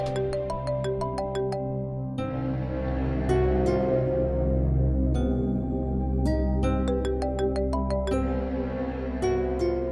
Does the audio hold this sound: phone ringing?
yes